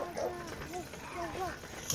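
A dog barks outdoors on a mild night, giving a few short, mid-distance barks and yips against a background where people are talking.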